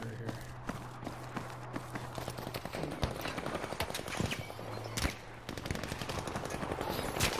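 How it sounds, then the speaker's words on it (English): Sniper rifle fire rings out in a video game battle over an objective, with sharp shots cracking repeatedly amid a steady barrage of other gunfire and footsteps, loud and continuous throughout. "Is that a sniper shooting at us?"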